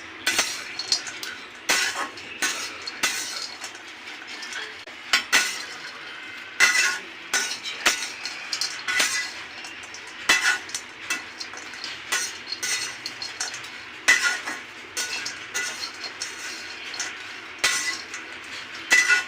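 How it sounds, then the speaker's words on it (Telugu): Ingredients frying in a pan after sesame seeds crackle and sizzle continuously, broken by frequent metal spoon clinks and scrapes against the pan at an irregular pace. "చూడండి ఫ్రెండ్స్ వేగుతున్నాయి"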